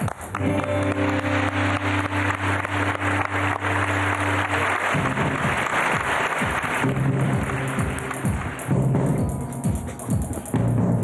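A game show studio audience applauds for the Hindu community, dense clapping over a sustained low musical tone that drops away midway, leaving looser uneven claps to the end.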